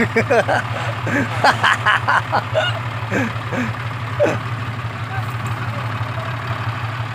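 A tractor stuck off the side of a road runs with a steady low idling engine hum, while people talk loudly over it throughout.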